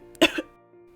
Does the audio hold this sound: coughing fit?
yes